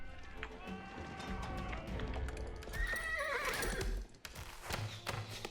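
Horse archers in the video game Age of Empires: clip-clopping hooves and a sharp neigh mid-clip, with game sounds and a faint voice underneath.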